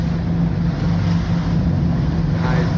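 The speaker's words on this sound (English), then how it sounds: "This is just unbearable, these waves." Rough sea and gusting wind buffet a crab-fishing boat in loud, steady roaring noise with a low engine-like rumble underneath, continuous and close to the microphone.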